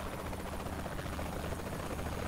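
A helicopter flying in the video game Saints Row: The Third, with a steady, dense rotor and engine drone running evenly throughout, fairly loud and without talk.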